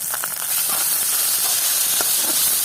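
Prawns go into hot soybean oil with onions and chillies, giving a loud, steady hiss of frying that holds evenly throughout, with a few faint clicks and no talking.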